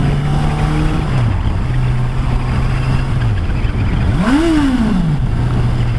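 Honda CBR650R A2-restricted motorcycle engine held at a steady idle-like drone, then revved once in a rising and falling sweep near the end, loud and close throughout with no talk.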